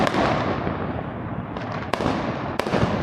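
Firecrackers crack sharply a few times over a dense, constant roar of crowd noise and distant bangs during Diwali in Jaipur, India.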